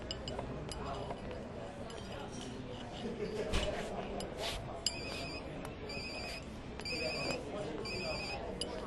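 Telephone ringing indoors in a repeating pattern of bright electronic trills, moderately faint beneath clinking sounds and a soft room background, with people talking nearby.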